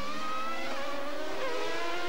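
Formula 1 race car at the 1994 Pacific Grand Prix warm-up, its engine a steady high-pitched whine with rising harmonics as it runs on track, fairly distant and continuous over the full two seconds.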